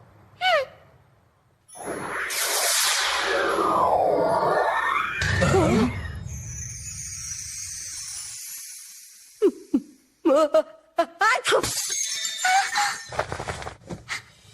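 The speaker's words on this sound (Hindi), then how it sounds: "ये फोर्स स्टोन, ये टूट गया।" A magical force stone in an animated fantasy episode gives way. Long shimmering, whooshing swells rise and fall, then break into a run of sharp, brittle cracks and crackling bursts.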